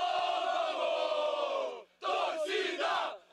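Football supporters chanting together, a large crowd of voices holding a long, sustained sung shout. It breaks off briefly, then returns in several rhythmic surges.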